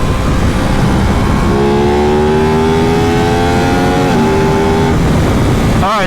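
A 2021 Aprilia RS 660 motorcycle revs hard under full throttle, its engine tone climbing in a long rising whine that bogs briefly then surges, loud and close.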